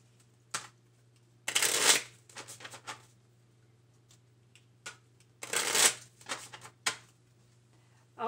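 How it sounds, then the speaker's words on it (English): Playing cards are riffled in two quick bursts, each followed by soft taps and clicks as the deck is squared, close and quiet otherwise. "let's shuffle and see what happens here."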